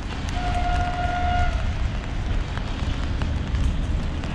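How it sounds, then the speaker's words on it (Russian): An electric commuter train near Orsha rumbles past with a low, continuous rolling roar, while a short tonal whine rises briefly near the start over the steady rail noise. "А это куда электричка летит?"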